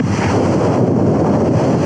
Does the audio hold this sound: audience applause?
no